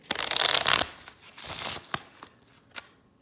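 Playing cards are shuffled during a Tarawa D-Day board wargame: a long, loud riffling burst followed by a second shorter riffle, then a few sharp card taps and snaps near the microphone, with no talking.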